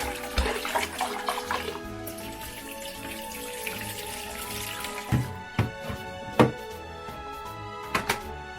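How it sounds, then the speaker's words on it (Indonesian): Rice is washed in water, with sloshing and splashing in the first seconds, then quieter gaps broken by a few distinct splashes and drips near the mic. "Sekarang kami akan mencuci berasnya."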